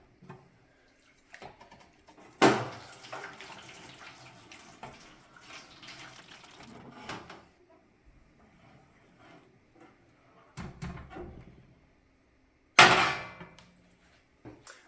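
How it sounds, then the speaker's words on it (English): Water dumped out of an NBR 2000+ glazed nut roaster: two loud splashing, clattering bursts several seconds apart, with quieter trickling and handling noise between them. "now we're going to dump the water"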